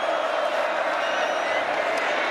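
A football stadium crowd at a K-State versus Troy college game keeps up a steady, dense roar of cheering throughout, with no clear breaks or single standout shouts.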